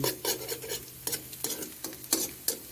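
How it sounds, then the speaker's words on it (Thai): Close-up stir-frying: a spatula scrapes and tosses food in a hot thin pan over low heat in quick repeated strokes over a steady sizzle. "เจียวสักพักหนึ่งค่ะ"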